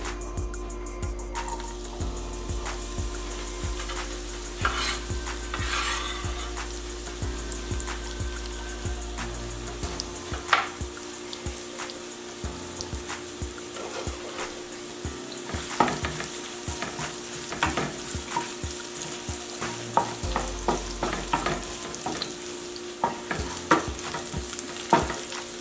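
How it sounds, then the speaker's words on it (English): Shallots toss in hot oil and sizzle steadily at close range for a Vietnamese grilled shrimp noodle dish. The constant frying hiss carries occasional stirring scrapes and pops, with a low hum that shifts underneath. "we're gonna toss all of those shallots in and let them cook for about 5 minutes"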